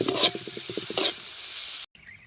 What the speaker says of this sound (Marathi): आपल्याला कांदा चांगला लालसर तळून घ्यायचा आता चांगला लाल होईपर्यंत आपण ह्याला चांगलं तळून घ्यायचं